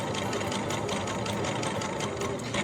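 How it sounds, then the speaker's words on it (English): Close, continuous whirr and rapid chatter of a sewing machine back-stitching through two layers of very thick felt, steady and loud for the whole few seconds. "We'll do a little bit of a back stitch so it doesn't come apart."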